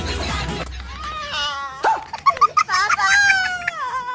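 A person wails and whimpers like a crying dog, a voice imitating the animal with rising and falling howls and short yelps, preceded by a brief burst of noisy voices.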